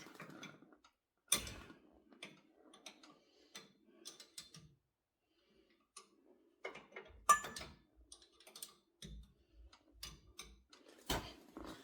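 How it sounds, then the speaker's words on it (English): A ratchet wrench runs down a hub bolt near a ball joint, giving quiet, sparse bursts of clicking separated by pauses, with faint handling knocks in a still workspace. "So I'll run that down with my ratchet wrench"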